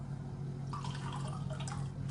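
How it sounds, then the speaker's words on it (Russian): Ordinary tap water is poured from close by, a light trickling and dripping stream over a steady background hum, with no voices. "Я сейчас буду брать воду обычную из-под крана."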